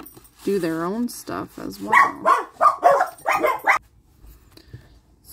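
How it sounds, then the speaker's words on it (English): Dogs yelp and bark indoors, starting with a drawn-out whining yip and then short barks mixed under continuous nearby talking. "I apologize about the dogs."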